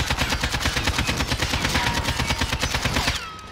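Sustained fully automatic AK-47 fire from Modern Warfare, a dense, rapid, loud stream of shots lasting about three seconds before cutting off into a brief ring-out.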